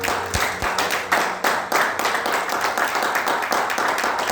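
A church congregation claps together in praise of the Lord, a dense run of hand claps in a steady rhythm, loud and close, filling the whole space.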